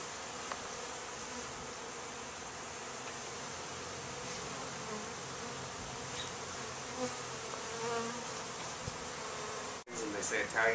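Italian honey bees from newly arrived package colonies buzz steadily throughout, a dense continuous drone with a few louder passes near the end.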